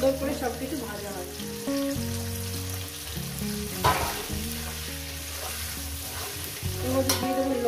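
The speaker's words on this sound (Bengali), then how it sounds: "এখানে আলুগুলো দিয়ে দিলাম। আর তার সঙ্গে সঙ্গে পেঁয়াজগুলো আমি দিয়ে দিলাম, যাতে একসঙ্গে সুন্দর করে সবকিছু ভাজা হয়।" Potatoes and onions frying together in a pan give a steady, loud sizzle with stirring scrapes, heard under background music.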